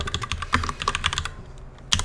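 Rapid clicking keystrokes on a computer keyboard, a close, busy burst of typing that thins out briefly before a final tap, with no voice.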